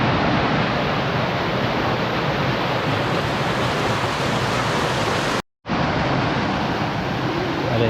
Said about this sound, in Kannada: ಅದೇ ಫುಲ್ ನೀರು ಸುದೆ ಬರೋನುಂಡು